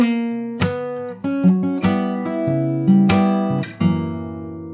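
Fingerstyle guitar plays the intro of a jazz standard, plucked notes and ringing chords overlapping in a steady phrase, close and clear with no talking.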